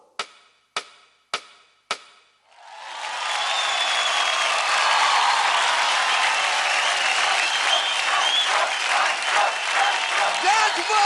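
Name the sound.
audience applause for Pradeep after a dance performance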